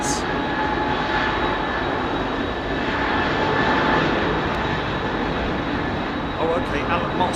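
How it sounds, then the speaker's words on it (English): A Boeing 767 jet at London Heathrow Airport gives a steady, loud engine roar with a continuous whine held at an even level throughout, while faint voices sit underneath. "great sound from the 767"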